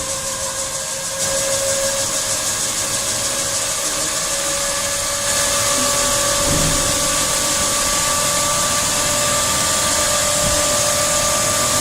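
An AC asynchronous induction motor runs during a reduced-voltage test, giving a steady close electrical hum with fixed tonal whine lines and mechanical rumble that step up in level partway through.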